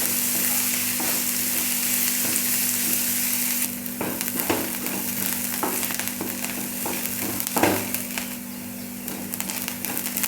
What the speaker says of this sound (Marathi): बारीक चिरलेले कांदे टाकून घ्यायचे. कांदा फ्राय करून घ्यायचा आहे.